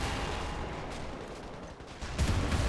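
Machine guns fire continuously in a World War II game running the RobZ Realism Mod, set in the Operation Citadel battle, producing a dense, distant roar of overlapping bursts with a heavier swell near the end.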